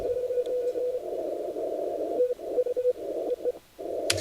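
Amateur radio signal received on the 15 m band at sunrise, heard as a steady tone-like carrier with static, holding for about two seconds, then breaking into short choppy bursts and resuming near the end.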